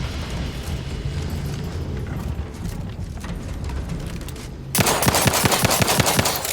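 Dense bursts of rapid automatic gunfire in The Outer Worlds 2, a steady rattling barrage that jumps to a louder, sharper volley of distinct shots near the end.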